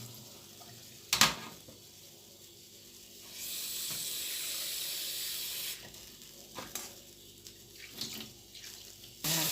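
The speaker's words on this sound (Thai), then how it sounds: "ขอล้างถั่วแป๊บนึงเสร็จเนาะ ล้างถั่วนะคะ" Soaked beans are rinsed under a running tap, a close splash and clatter at first, then a steady rush of water pouring for a few seconds, followed by scattered wet handling sounds and drips, with no talking.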